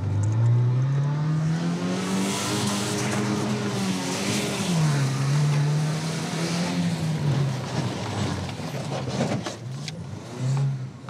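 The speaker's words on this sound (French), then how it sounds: "Il multiplie les coups d'accélérateur" A car engine revs hard again and again as the driver keeps pumping the accelerator. The drone is loud and close, and its pitch rises and falls in repeated surges over a steady rumble.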